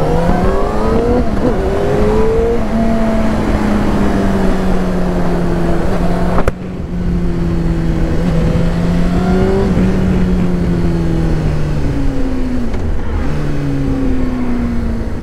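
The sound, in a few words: motorcycle accelerating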